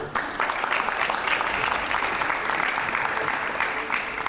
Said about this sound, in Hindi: तालियां थोड़ी कम आ रही है